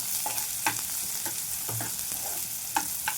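Green chilies frying in hot oil for a dried bombil and potato curry, a continuous sizzle with sharp spatters and spoon scrapes popping up at irregular moments, no voices.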